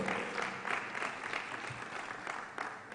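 Steady applause from a large symposium audience for a keynote speaker, continuous and fairly loud throughout with no voices standing out.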